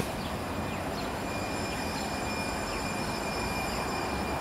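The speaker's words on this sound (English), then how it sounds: "now I'm waiting for the Blue Line train to depart" A San Diego Blue Line light rail train hums and rumbles steadily nearby, a broad constant roar with faint high whining tones running through it and no speech.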